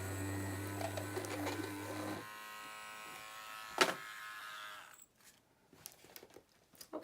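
A Dremel rotary tool whirs steadily while drilling into resin earrings, a close, even buzz lasting about two seconds before stopping, followed by a sharp knock and a few soft handling clicks.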